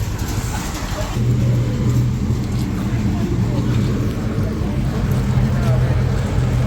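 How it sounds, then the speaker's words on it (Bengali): A road roller rolls across a football playground, its engine a steady low rumble that grows a little heavier after the first second and holds throughout, with a voice speaking over it. "আর রোড লোডার নিয়ে চলে এসেছি আমরা।"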